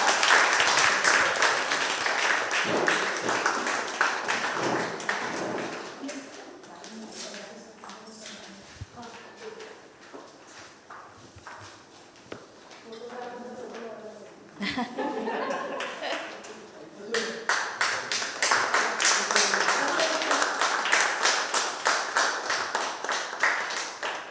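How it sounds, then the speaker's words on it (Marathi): An audience at a photography contest award ceremony claps for a prize winner, with bursts of applause at the start, talk and chuckles in the middle, then a loud sustained round of clapping toward the end. "टाळ्या"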